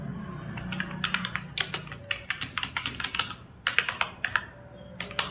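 Typing on a computer keyboard while writing a certificate in MS Word, a steady run of close, crisp key clicks in quick irregular bursts with brief pauses between words.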